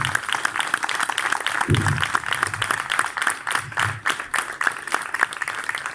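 An audience applauds the camera operators and sound technicians, a steady wash of many hands clapping that runs the whole time, with a voice briefly rising over it.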